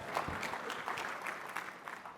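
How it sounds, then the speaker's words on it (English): Audience applause at a tech conference session, a soft, continuous patter of clapping heard at a distance, fairly faint and steady for a couple of seconds. "You're allowed to clap for that too."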